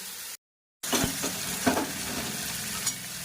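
Small sarpunti fish fry with a few green chillies in hot nigella seed oil, giving a steady bright sizzle. A brief dead gap comes early, and faint utensil clinks sound over the frying.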